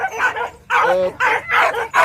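Dogs at an outdoor dog racing event give a run of loud, close barks and yips in quick bursts, with crowd voices mixed in.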